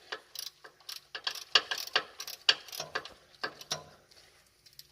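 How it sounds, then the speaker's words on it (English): A 3/8-inch drive ratchet with a 14 mm socket loosens the oil drain plug on a Nissan Altima, giving bursts of close, rapid clicking in irregular spurts with short pauses between strokes. "grab your 14 millimeter socket and your 3/8 drive ratchet and just go to town on this plug"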